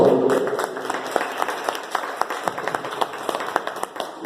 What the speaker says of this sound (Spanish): con la venia de Miguel Ángel Márquez, para que también pida un aplauso al responsable de la logística de esta tarde de hoy